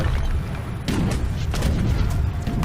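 Cannon fire in the Age of Empires video game comes through as a few muffled booms and thumps over a steady background of game noise.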